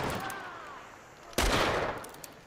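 A single loud gunshot cracks out in Hunt: Showdown, a sharp blast followed by a brief rolling echo, breaking an otherwise quiet ambient stretch with no talking.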